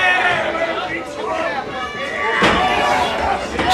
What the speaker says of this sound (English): slams him right on the floor